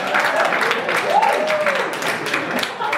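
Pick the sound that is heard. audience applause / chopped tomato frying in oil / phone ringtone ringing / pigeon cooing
audience applause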